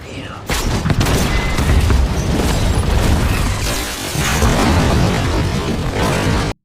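A hand grenade explosion: a loud, sustained blast of explosive noise with rumbling booms and crackling debris, dense and continuous for several seconds before cutting off abruptly.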